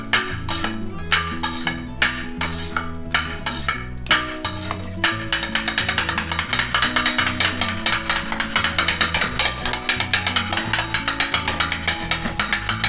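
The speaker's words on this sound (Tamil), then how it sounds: "எல்லாமே சென்டர் பண்ணிவிட்டு நம்ம குத்த ஆரம்பிச்சிடலாம் பரோட்டாவை" Metal spatulas chop Madurai-style chicken kothu paratha on a large tawa, a rapid rhythmic clatter of metallic strikes that speeds into a dense, steady drumming, loud and close.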